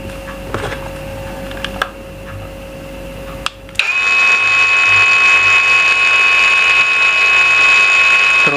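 A HUJIA cordless drill runs on its own at low RPM, a steady mechanical whir that stops briefly partway through and then restarts louder and holds a constant pitch.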